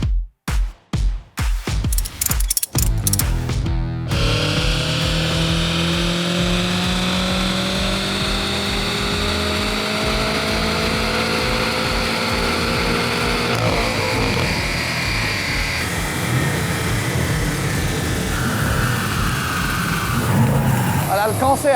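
Used BMW M5 engine starting up with a few sputtering cranks, then settling into a loud, sustained run with rising and falling revs, close by, while people talk over it.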